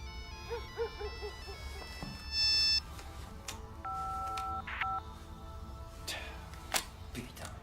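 Mobile phones ring with steady electronic tone patterns, first a bright chiming sequence and then a lower two-note ringtone, over a dense hum of background noise.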